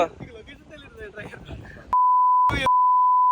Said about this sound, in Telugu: వీడికి మొత్తం బీప్ వేసుకుని కూర్చోలేనా